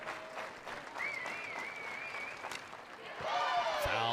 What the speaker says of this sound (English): the crowd getting into it here in the middle innings at Sherry Parker Lee